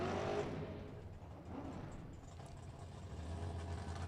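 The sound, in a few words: Chevrolet Camaro drag car engine revving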